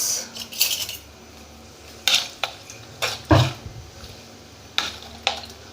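Chili powder and turmeric are stirred into vegetables in a pot, with a metal spoon scraping and knocking against the pot in irregular clinks and taps over several seconds, close and moderately loud, with no talk.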